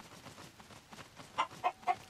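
A chicken in Zelda: Tears of the Kingdom gives three short, bright clucks in quick succession near the end, after a quiet stretch of faint background game ambience.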